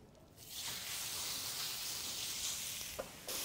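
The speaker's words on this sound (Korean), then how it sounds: "지금부터 고기를 지져주도록 하겠습니다" Meat sizzles loudly in a hot pan, a sudden burst of steady frying hiss that settles into a continuous sear with a brief pop near the end, no voices.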